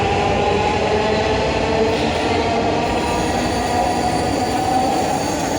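A metro train rolls past on an elevated line, a steady loud rumble with high wheel squeal running throughout, close and continuous with no voices.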